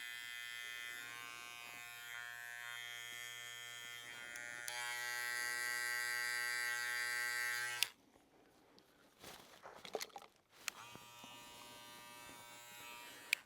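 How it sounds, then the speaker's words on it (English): A Gamma Boosted UP hair clipper used outdoors to blend a haircut buzzes steadily for several seconds, stops, then starts again after a short gap with scattered handling clicks, close and fairly quiet. "keeping the clipper either slightly diagonally or tipping it off the side of the head like you see me doing now"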